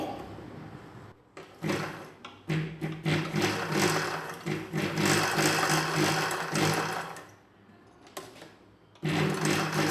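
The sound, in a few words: sewing machine stitching piping on a nighty neckline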